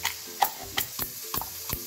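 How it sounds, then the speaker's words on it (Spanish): Garlic cloves with chili, oregano and salt are mashed in a short series of dull, evenly spaced pounding thuds, close and clear with no talking. "vamos a majar nuestros dientes de ajo con su toquecito de ají gustoso, orégano criollo y también una pizca de sal"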